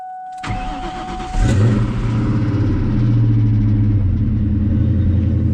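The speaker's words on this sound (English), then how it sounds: "Definitely hear those forged pistons rattle when you first warm it up." A Ford Mustang engine cranks and catches, then settles into a loud, rattly idle from its forged pistons while still cold, continuing steadily with no one talking.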